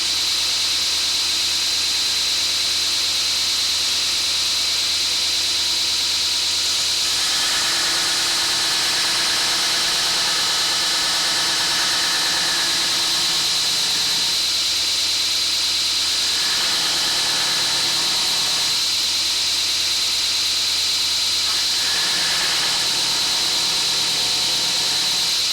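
A PnW Mk-1 belt grinder runs at lower RPM, giving a steady motor hum and high whine throughout, with several longer stretches of grinding as a piece is worked against the belt.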